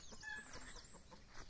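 Chickens in a garden, a soft busy clucking blended with faint background ambience, quiet and continuous over a short stretch with no talking.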